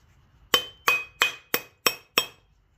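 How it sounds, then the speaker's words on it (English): A hammer taps an old dehumidifier part being scrapped, six sharp ringing metallic clinks at an even, steady pace, close and clear, each fading quickly, with near silence around them. "I'm gonna give it a little love with the hammer here"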